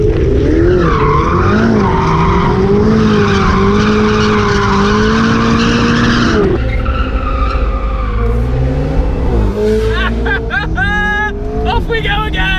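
A Ferrari 488 Spider or McLaren 650S drifts on a driving road, its engine howling loud and close with rising and falling revs, then tires squealing and skidding as it slides sideways; people talk over it.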